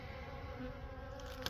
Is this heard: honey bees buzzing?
yes